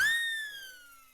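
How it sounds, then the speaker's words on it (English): A slide whistle glides steadily downward in pitch, loud at first and fading as it descends, heard alone for just over a second. "I've got this fancy whistle here, which is used for when someone like throws something or something's falling"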